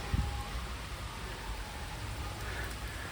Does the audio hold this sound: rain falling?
yes